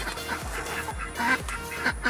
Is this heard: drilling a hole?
no